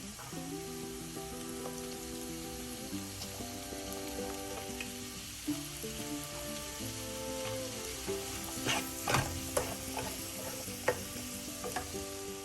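Chopped green chillies with crushed ginger and garlic sauté in a pan for a quail egg masala, giving a steady sizzle with intermittent stirring clinks and scrapes over a soft tonal background.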